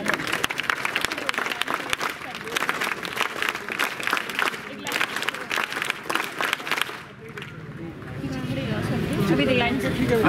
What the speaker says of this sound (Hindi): आप लोग तालियों से स्वागत करिए।